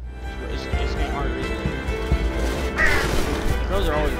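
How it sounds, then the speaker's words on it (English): Crows caw repeatedly in the video game Unravel, the harsh calls scattered among game effects while someone talks over most of it. "Crows are always grabbing me."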